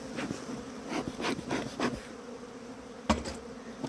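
Honey bees buzz around an open hive box. Several separate buzzing passes rise and fade close by, over a quiet background, with one sharp knock partway through.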